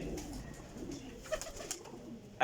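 Soft, low pigeon cooing in a quiet space, a few gentle coos spread across the moment with faint background noise.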